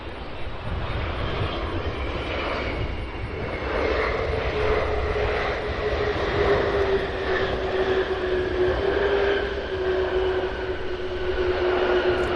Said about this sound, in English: ABX Air Flight 480 from LAX.